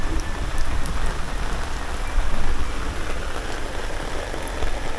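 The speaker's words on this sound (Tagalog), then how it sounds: "Inabot ng ulan, oh." Steady heavy rain pours down in a constant hiss of drops on a surface, loud and close, with no one speaking.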